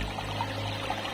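Cold mountain spring water near 2000 metres on Gunung Sunda flows in a steady, close burble with faint trickling splashes and no voices.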